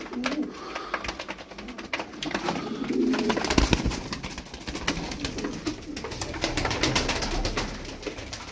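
Sütbeyaz game-bird pigeons cooing in a loft, a steady chorus of soft, overlapping coos with fluttering and shuffling, close and continuous throughout.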